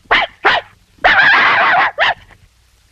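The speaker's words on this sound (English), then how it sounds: "One long howl, two short, one yip and woof" A dog barks twice, lets out a longer drawn-out howl, then gives one more short bark, loud and close.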